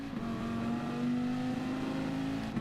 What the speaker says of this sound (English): Very high rev